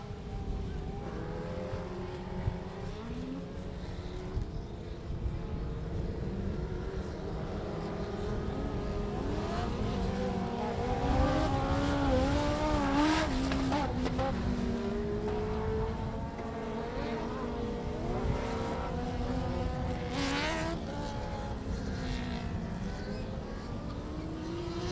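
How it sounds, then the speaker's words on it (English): Dwarf race cars of a Texas dirt-track series run a hot lap session, engines droning and revving steadily at mid distance with rising and falling pitch, a continuous loud roar throughout. "Dwarf Car Racing Series of Texas coming out here now for a hot lap session."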